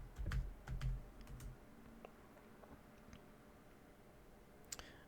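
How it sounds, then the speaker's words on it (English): Password keys tapped on a computer keyboard: a quick burst of soft clicks at the start, then a few scattered light taps over faint room hiss. "So we're going to type in our favorite password"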